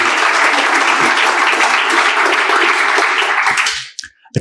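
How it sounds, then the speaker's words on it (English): Loud, dense applause from an audience at a Python-for-AI talk, a steady wash of many clapping hands that holds for about three and a half seconds before abruptly dying away, leaving a few scattered claps. "let's give a round of applause to Amanda"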